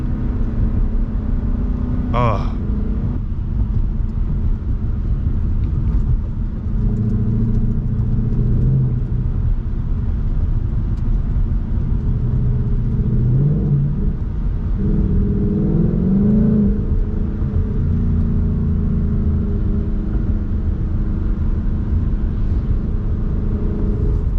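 A car's engine running in cold, wet weather, a constant loud low rumble with a few swelling revs, close and continuous, with brief voices in places.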